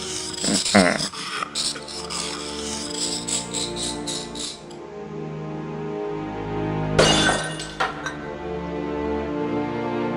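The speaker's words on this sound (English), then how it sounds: "I smashed the tall urn into tiny pieces, and inside was the golden sword" In the Discworld Noir video game, a tall urn smashes into pieces with a loud ceramic crash and scattering shards, followed later by another bright shatter over a sustained musical backdrop.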